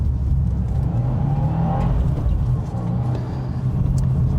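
A Subaru WRX tS with a 2.4-liter engine drives along narrow back roads, its steady engine hum and low rumble continuous, with a slight rise in revs midway; no talking over it.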